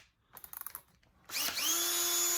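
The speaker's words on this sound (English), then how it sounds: "just use my DeWalt cordless drill. It's a 20 volt and a wool." A DeWalt 20-volt cordless drill with an arbor-mounted wool pad starts up after a few soft clicks and spins on its low setting with a steady whine.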